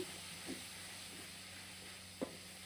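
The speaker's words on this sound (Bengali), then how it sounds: "চিকেনটা কষিয়ে নিচ্ছি।" Chicken sautéing in a pan: a quiet, steady sizzle continues throughout, with two faint utensil taps on the pan. No voices.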